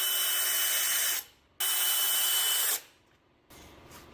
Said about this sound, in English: I'm going to shoot a screw up here in the piece that's glued